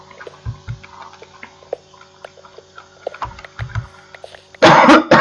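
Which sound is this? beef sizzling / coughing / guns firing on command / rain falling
coughing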